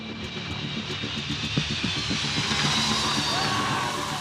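Antonov AN-225 cargo aircraft heard as a broad, steady roar of jet engines, distant and slowly swelling, with a faint crowd murmur underneath and no clear speech.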